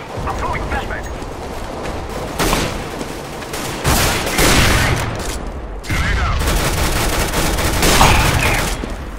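Bursts of rapid gunfire from Counter-Strike: Global Offensive crackle in clusters throughout, with voices talking over the shooting.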